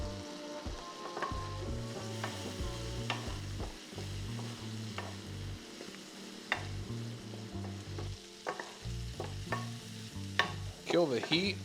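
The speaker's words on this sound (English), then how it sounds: "We're gonna drop in our garlic." Garlic sizzling in butter in a pan with steak bites, a steady close fry crackle with spoon stirring and scraping, occasional sharp pops and clinks over a low rumbling background hum.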